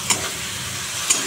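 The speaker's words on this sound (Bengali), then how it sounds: "এখন কষাচ্ছি, তেলটা বেরিয়ে গেলে আমি জল দিয়ে দেবো।" Potatoes and spices sauté in hot oil with a steady, even sizzle and hiss, broken by two light, brief clicks from the pan.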